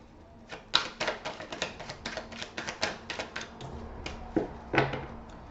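Tarot cards being shuffled and laid out on a table: a run of quick dry card flicks and taps in an irregular rhythm, close and moderately loud, with no one talking.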